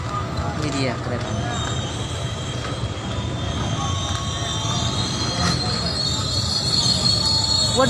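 An Argo Parahyangan executive stainless steel passenger train from Bandung bound for Gambir station passes close by, with a loud steady rumble of wheels on rails and high wheel squeal throughout; faint voices sit underneath.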